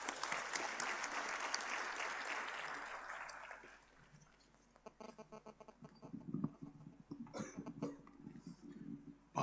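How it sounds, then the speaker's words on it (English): An audience at a national symposium gives a speaker a round of applause, loud continuous clapping for about four seconds that fades, followed by scattered coughs and small shuffling noises in a quiet hall. "Please welcome him with a huge round of applause."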